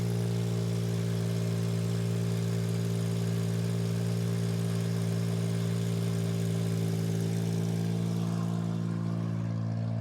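Geo car engine idling steadily just after being cranked, a loud, even, close-up rumble running without pause or talk.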